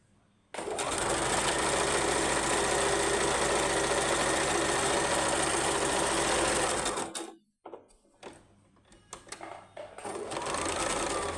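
Sewing machine stitching fabric runs in one steady, loud mechanical whir for about seven seconds, then stops abruptly, followed by short bursts of stitching and a brief restart near the end.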